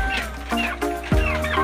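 An African white breeder chicken clucks several times in short, close calls, with other poultry in the background, in a small outdoor flock on a farm.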